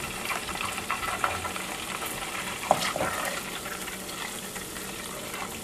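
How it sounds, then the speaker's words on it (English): Clarified butter (ghee) boiling in a pan for an Indian dessert, a steady frothy bubbling and sizzling hiss that stays close and even throughout, with one brief sharper crackle partway through. "We can see the ghee or the clarified butter is coming to a boil."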